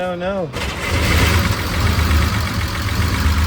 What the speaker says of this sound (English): Sounds like it might be misfiring a little bit.